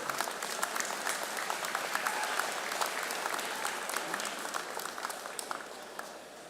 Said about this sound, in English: Big round of applause for yourselves.